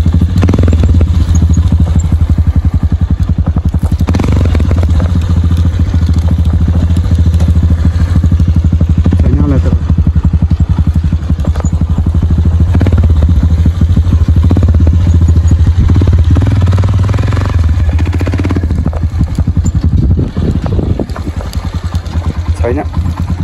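A motorcycle climbs a hillside track toward a ridgetop, its engine a loud, continuous low drone heard up close, with clattering, thumps and rough buffeting throughout.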